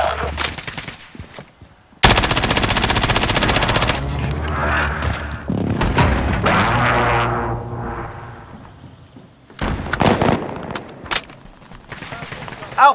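A .50 cal machine gun in Call of Duty Warzone fires a loud, sustained burst of rapid shots close up, followed by more scattered gunfire and blasts amid game action.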